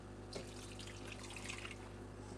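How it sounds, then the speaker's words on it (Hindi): Milk is poured into turmeric paste cooking in a pan, giving a soft continuous liquid trickle and sizzle over a steady low kitchen hum, with no talk. "मैं इसमें थोड़ा दूध डालने लगी हूँ।"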